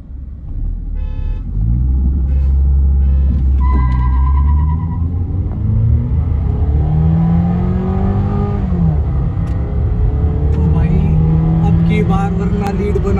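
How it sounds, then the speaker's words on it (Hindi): Engine rumble from a Toyota Camry 2.4 and a Hyundai Verna 1.5 petrol accelerating side by side in a drag race, with a steady loud drone and rising revs under ongoing talk. "आज की ड्रैग रेस में यही रहा कि अपनी जो कैमरी है ये इजीली विन हो जाती है वरना से"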